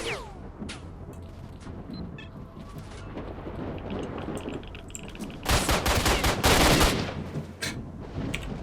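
Gunfire in S.T.A.L.K.E.R.: Shadow of Chernobyl: scattered sharp shots crack over a low ambient rumble, then a loud burst of rapid automatic fire.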